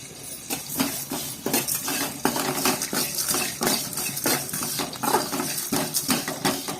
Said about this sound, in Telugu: ఇప్పుడైతే ఇవన్నీ ఒకసారి నేను వేసి వేపేస్తున్నాను చెప్పే కదా ఆయిల్ లేకుండా వేయించుకోవాలి